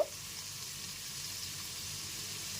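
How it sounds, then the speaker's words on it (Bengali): Spice paste for a Bengali katla kalia fish curry sizzles steadily as it is sautéed in a pan, a soft, even frying hiss running unbroken throughout. "মশলাটা এখানে খুব ভালো মতো কষিয়ে নিয়েছি"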